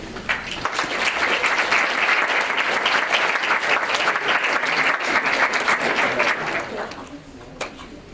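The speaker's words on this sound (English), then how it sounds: "Please join me in a round of applause this morning for Abby," A school audience applauds three students from a Keota, Iowa sociology class, steady dense clapping that runs loud for about seven seconds and then thins out, with a last few scattered claps near the end.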